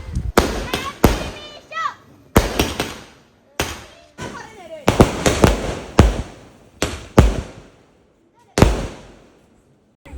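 Firecrackers burst at a pre-Vishu celebration in Kerala, a string of sharp loud bangs at irregular intervals, each trailing off, with children shouting and talking between them.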